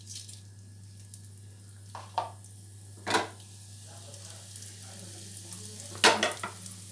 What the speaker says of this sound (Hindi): देखिए, सरसों पटपट आवाज कर रहा है।